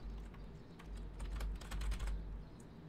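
Fingers tap on a computer keyboard in a quick, uneven burst of close, crisp keystrokes over a low background hum.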